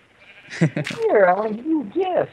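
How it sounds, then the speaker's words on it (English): A baby sheep in a video game gives a few short, wavering bleats, close and clear, tangled up with someone speaking at the same time. "look at the baby sheep"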